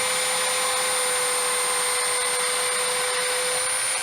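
A ProCraft PBS 1400 belt sander runs steadily after being switched on, giving a loud, even motor whine with a sustained high-pitched tone and no talking.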